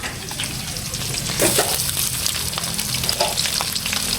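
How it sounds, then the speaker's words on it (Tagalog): Garlic and onion sizzle and crackle steadily in a hot pan while being sautéed for adobo, a close, continuous frying hiss with brief stirring scrapes. "Naigisa na po niya yung bawang at sibuyas."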